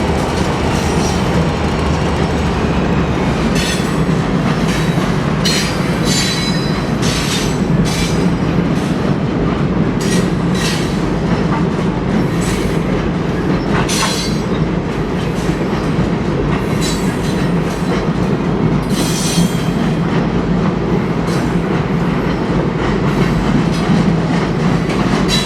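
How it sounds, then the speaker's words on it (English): A freight gravel train rolls across a short bridge, its steady heavy rumble and clickety-clack of wheels continuous and close, with intermittent sharp wheel squeals and metallic clanks, no voices. "Sicily Road is a popular spot to watch trains cross a short bridge."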